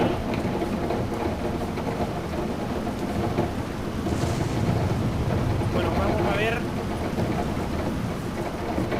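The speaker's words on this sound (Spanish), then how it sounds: "Se escucha muy fuerte en lo que es la lluvia y..." Heavy rain keeps hammering down in The Clearing video game, a loud continuous wash with low thunder rumble underneath, while someone speaks briefly over it.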